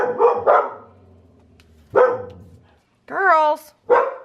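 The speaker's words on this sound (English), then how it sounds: "Now they're both barking." Two dogs bark indoors in a few sharp bursts separated by pauses, one giving a higher whining yelp, loud and close.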